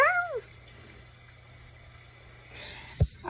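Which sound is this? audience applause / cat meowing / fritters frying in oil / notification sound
cat meowing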